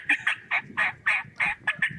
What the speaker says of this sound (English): Who's making bird calls?